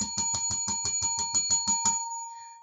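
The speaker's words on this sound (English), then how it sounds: "ring that effing bell" A bell rings in a fast, even rattle of about a dozen strikes over two seconds, loud and close, then stops abruptly and leaves a faint fading tone.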